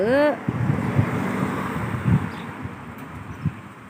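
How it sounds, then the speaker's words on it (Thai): Wind rushes steadily past with a soft roar, a brief rising whistle-like tone at the start and occasional low thumps. "ลมมาแล้ว พี่น้องลมมาแล้ว"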